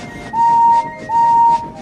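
Henry the steam locomotive sounds two loud, clear whistle blasts close by, each held steady for about half a second with a short gap between, over a low rumble.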